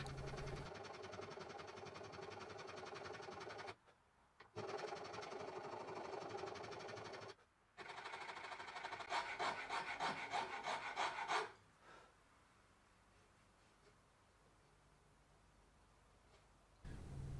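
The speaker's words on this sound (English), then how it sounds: "Then I'll switch to a regular half-round rasp to carve the transition from the neck to the headstock." A regular half-round rasp carves the wooden neck-to-headstock transition of a custom guitar: loud, rapid rasping strokes in three bursts separated by short pauses, the last burst harsher and more rhythmic, followed by quiet room tone.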